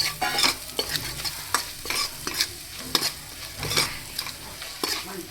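A spiced paratha filling with salt cooks in a pan over low heat. A spoon scrapes and stirs in a quick rhythm over a light sizzle, close and moderately loud.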